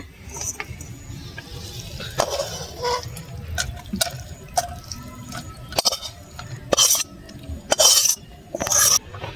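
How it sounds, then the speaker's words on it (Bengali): Chicken curry is poured and scraped from a pan into a bowl, with wet slopping, drips and repeated sharp utensil clinks against metal, growing louder toward the end. "এবার আমি ঢেলে নেব বাটিতে।"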